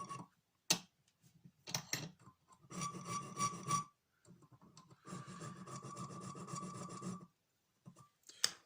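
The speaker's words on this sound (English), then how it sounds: "I just file a couple of flats on it." Hand file cutting flats onto a small metal part, several bursts of close, raspy back-and-forth strokes separated by short pauses, with faint ticks between them and no one talking.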